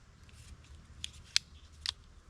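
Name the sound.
multitool scissors snipping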